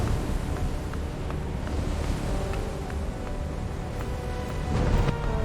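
Stormy ocean surf and wind roar together in a dense, continuous rumble, with gusts buffeting hard and a louder surge near the end, no voices.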